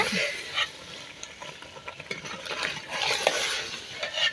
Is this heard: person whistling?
no